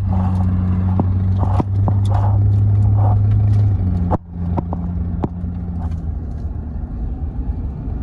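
A car drives off, heard from inside as a steady low engine hum and road rumble with a few clunks and rattles, no one speaking.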